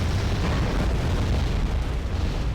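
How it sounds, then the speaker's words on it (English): Bombs explode on target in the PC war game Wargame Airland Battle, a dense, rumbling roar of blasts merging into one continuous loud boom with no talking. "These bombs drop on target."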